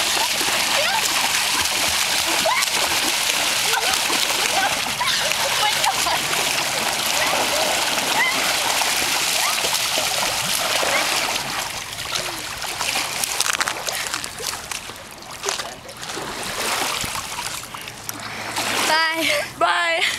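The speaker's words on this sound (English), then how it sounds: "Today we are going to jump into the Columbia River." People jump into the Columbia River, and a constant rushing splash and churn of water fills the scene, loud and close, easing slightly near the end.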